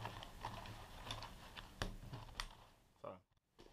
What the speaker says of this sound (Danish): Klikker dem ind.